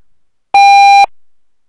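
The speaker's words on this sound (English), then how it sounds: "It's so loud in my ear that every time it beep" A single loud electronic beep from a Windows XP computer, a steady tone lasting about half a second, alone against silence.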